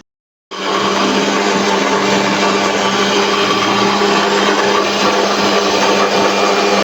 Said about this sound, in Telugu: మిక్సీ గిన్నెలో వేసుకొని మిక్స్ చేయాలన్నమాట